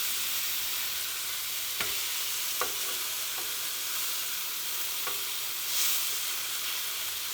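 Bison ribeye sears in a hot pan with a steady, bright sizzle, broken by a few sharp clicks and pops, alone and without talk.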